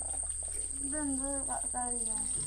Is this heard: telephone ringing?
no